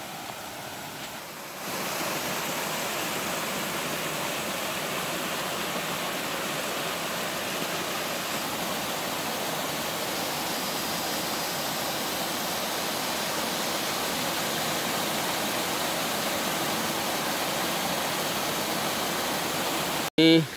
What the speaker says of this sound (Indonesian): Ini ada sungai dengan air terjun mini.